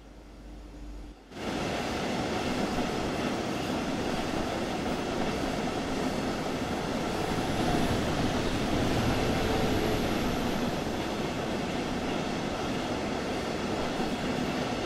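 A train rolling along in the Train Sim World video game, a steady broad rumble that starts after a second of near silence and then holds at an even, loud level throughout, with no talking.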